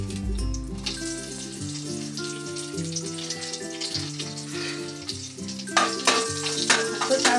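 Mustard seeds and curry leaves sizzle in hot oil for poha chivda, a steady crackling fry running under prominent background music throughout.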